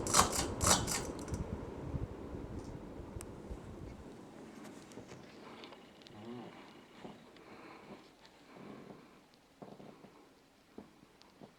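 Hunter Infiniti series ceiling fan shuts off with a few clicks and a loud whoosh, then its hum and airflow fade over several seconds into quiet rattles and faint ticks as it spins down.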